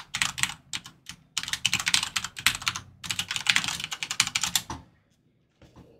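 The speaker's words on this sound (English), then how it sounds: "Type away." Fast typing on a computer keyboard, dense bursts of close clicking keystrokes with short pauses, stopping near the end before a few final taps, with no talk.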